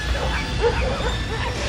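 Several dogs from a family of nine living below Seorak Mountain bark and yip in short, uneven bursts, with a brief whimper among them, over busy background noise.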